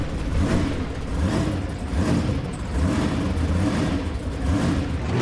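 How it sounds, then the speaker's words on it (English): A drag racing car with a 557 cubic inch Keith Black Chevy engine roars loudly and steadily, with deep low rumble and pulsing engine surges throughout, heard at a drag strip with no talking. "This is a 557 cubic inch Keith Black Chevy."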